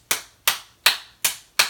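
Five slow, evenly spaced hand claps from a single person, crisp and close with sharp attacks and quick decays, and nothing else between them.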